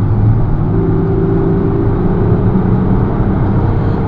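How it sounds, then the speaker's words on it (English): Audi Q7 3.0 TDI quattro diesel engine from 2007 droning and howling steadily as the large SUV accelerates, a continuous loud low engine tone with rising harmonics heard from inside the cabin. "When you accelerate on this car, the engine makes a lovely howling noise."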